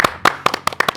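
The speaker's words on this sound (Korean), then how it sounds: "박수." A few sharp, separate hand claps from a small studio audience on a Korean baseball talk show, about six close, crisp claps in quick irregular succession.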